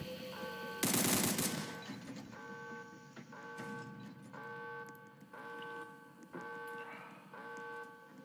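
Gunfire in a first-person shooter video game, with a loud burst of rapid shots early on, followed by repeated electronic beeping tones and scattered quieter shots over a steady game-sound background.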